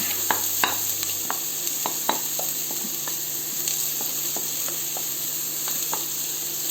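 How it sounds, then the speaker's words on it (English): Onions cook in butter for a Madras beef curry, a steady close hissing sizzle with regular light taps and scrapes of a stirring utensil running throughout. "We put in the onions, and we cook the onions till they're golden brown only."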